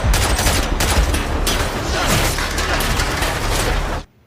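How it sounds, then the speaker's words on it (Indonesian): Continuous loud assault rifle gunfire from a film action scene, a dense unbroken volley of rapid shots with booming impacts and mechanical clatter, sustained for about four seconds before cutting off abruptly. "secara brutal menembaki mereka berdua"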